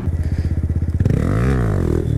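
A Honda Grom motorcycle engine, a small bike used for practicing wheelies, chugs in a steady low idle pulse. It then revs up sharply into a sustained, rising and falling throttle roar close to the microphone.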